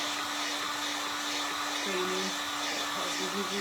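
A hair dryer blows with a steady airy whoosh and a constant motor hum, running nearby without pause.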